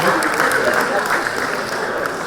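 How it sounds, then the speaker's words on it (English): An audience at a youth performance and entertainment event gives a round of applause for a chapter group, with loud, dense, continuous clapping filling the moment and slight crowd noise beneath it. "Can we have a round of applause for the chapter?"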